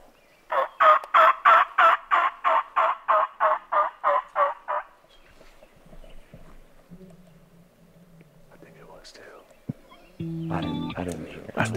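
Wild turkeys on an Idaho mountain let out a rapid run of about fourteen loud, rhythmic gobbles, then fade to quiet with faint distant calls and scattered noises, and a burst of close sound at the end.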